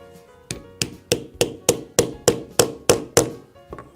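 Hammer blows drive a setter onto the female half of a snap fastener on an anvil, fitting a custom leather sheath for a folding knife; about eleven sharp, ringing strikes land in a steady rhythm, close and loud with no talking.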